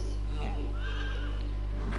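A horse gives a brief whinny in the video game The Last of Us Part 2, heard under a constant low hum and partly overlapped by a voice talking.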